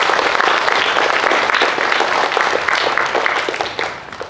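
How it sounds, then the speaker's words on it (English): A school assembly audience gives a speaker loud, dense applause, many hands clapping together in a steady roar that thins out and fades near the end. "Let's give him a round of applause."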